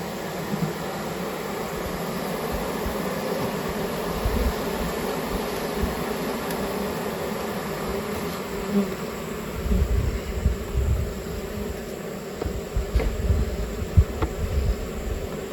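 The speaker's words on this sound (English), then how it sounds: "They definitely got a lot of bees" A late summer swarm of honey bees buzzing as a dense, continuous drone, close and moderately loud, with occasional stronger swells as bees pass near.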